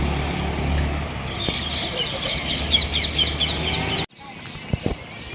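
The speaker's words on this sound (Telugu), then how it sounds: "ఒకసారి పిచ్చుక సౌండ్స్ వినండి." Sparrows in a small, peaceful village near Tiruvannamalai chirp in quick, high, repeated bursts over a steady low outdoor hum; a few faint knocks follow after the sound drops away.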